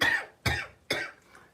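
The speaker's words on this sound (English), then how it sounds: "excuse me, this cough." Three sharp coughs in quick succession from a woman close to the microphone, each a short harsh burst with brief quiet gaps between them.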